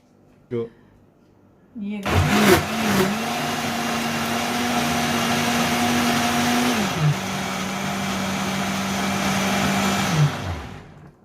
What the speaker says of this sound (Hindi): ये ब्लेंडर में डाल के अब हम इसको ब्लेंड करेंगे अच्छी तरह से।